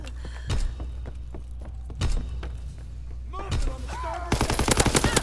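Video game gunfire comes in several separate shots and short bursts with heavy thumps, building to a rapid stream of shots at the end, while a player talks over it.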